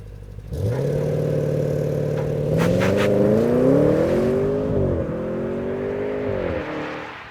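A 2023 Audi S8 launching hard from a standstill, its engine rising from idle into a loud, sustained surge of acceleration with climbing revs, a brief shift dip, then pulling strongly again, heard close and alone.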